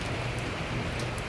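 Steady rain drums on a roof, a dense even hiss with no pause through the short stretch.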